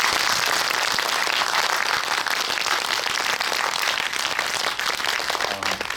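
Audience applause for the actors and director at a film cinema talk event in a Korean movie theater, dense steady clapping filling the room throughout, loud and continuous with no speech.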